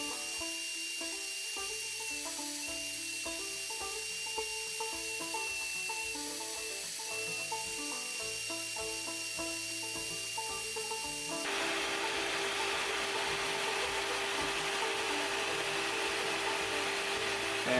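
Power tool steadily cutting excess material from knife handle scales fitted to a 5160 steel drop point recurve chopper, a continuous loud whine that changes tone partway through, with no voices.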